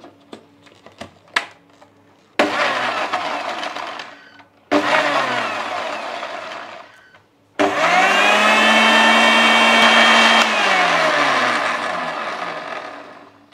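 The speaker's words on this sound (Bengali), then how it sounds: "ডাবের পানি দিয়ে লিচুটা তো ব্লেন্ড করে নিলাম" An electric blender purees lychees with half a glass of coconut water in three bursts, two short and one long, with a loud, close motor whine that rises and then winds down. No one speaks.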